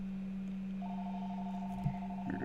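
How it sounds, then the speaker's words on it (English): A phone rings during a tabletop Commander card game session: a steady electronic ringtone with sustained tones holds for a couple of seconds at moderate level, and a brief thump and a burst of other noise come at the end. "goes my phone again."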